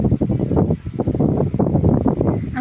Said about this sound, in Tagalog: Ang sarap ng hangin guys.